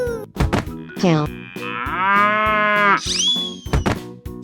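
A cow in a 3D animal slide video game lets out a loud, drawn-out moo lasting about two seconds. Short percussive thumps from the game surround it, and a brief rising call follows.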